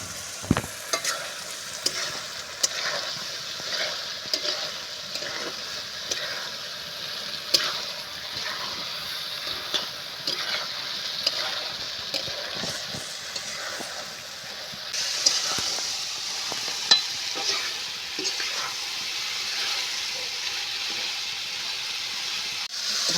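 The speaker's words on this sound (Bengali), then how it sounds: "ঢাকনাটা খুলে নিয়ে আমি ভালো মতো করে এবার আমি কষিয়ে নেব।" Banana flower curry is sautéed in a pan, a steady frying sizzle with frequent spatula scrapes and stirs, growing louder and hissier partway through.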